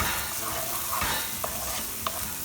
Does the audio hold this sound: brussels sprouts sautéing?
yes